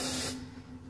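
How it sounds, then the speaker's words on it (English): Hairspray hisses from an aerosol can onto hair in one short, close, loud burst that cuts off quickly, with no talking. "I'm gonna give me some hairspray."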